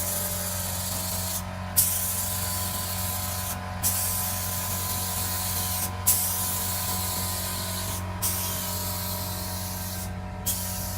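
A paint sprayer spraying a houseboat hull gives a steady, loud hiss of spray. It runs nearly continuously, with brief pauses and small pops roughly every two seconds, and there is no talk.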